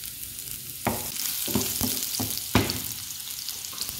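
Garlic sizzles in hot oil with paprika, cinnamon stick, Maggi and tomato paste, a steady hiss broken by several sharp bursts as the pieces are stirred in the pan.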